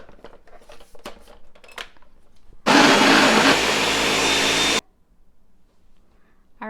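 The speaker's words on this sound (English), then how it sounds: "And then you just blend this for 1 minute." A kitchen blender whirs loud and steady for about two seconds while blending hemp seeds and water into plant milk, starting abruptly after quiet rustling and cutting off sharply, followed by faint handling sounds.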